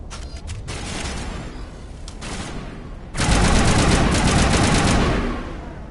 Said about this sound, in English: Sniper on sniper action.